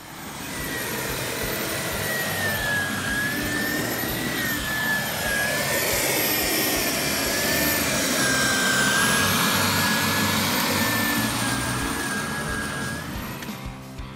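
A Sun Joe electric scarifier and dethatcher runs steadily across a lawn, a constant loud whirring motor hum with a high whine and rustling thrash of tines through dead grass, close and without talk.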